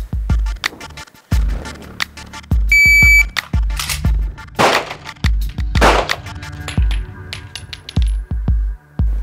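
Loud, sharp pistol shots crack repeatedly at a shooting range, some in quick pairs, with a brief electronic beep early on and ringing echoes between.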